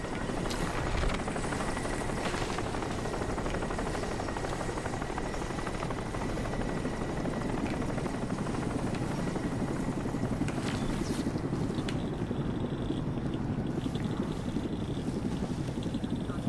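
A helicopter in the video game Crysis drones steadily and evenly at moderate loudness, a continuous rotor and engine hum lasting throughout with no talk over it.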